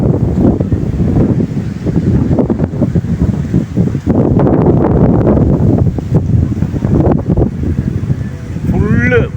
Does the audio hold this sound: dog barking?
no